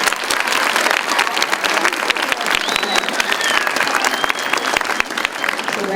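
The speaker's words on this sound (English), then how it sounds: "So would you give them a round of applause?" School audience gives a sustained round of applause for students who attended kindergarten through fifth grade, loud dense clapping from a crowd filling the room, with some background voices.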